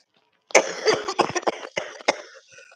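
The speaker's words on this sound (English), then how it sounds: "I don't want to cough in your ears" A person coughs in a rapid burst of several harsh, close hacks, loud and raspy, trailing off into a faint throat noise after about two seconds.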